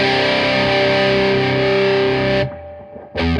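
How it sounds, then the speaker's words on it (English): Electric guitar runs through an MXR distortion pedal with the gain cranked, producing a thick, saturated sustained chord. It cuts off abruptly near the end, then another chord starts after a brief gap. "go back up to the MXR and let's crank the gain up"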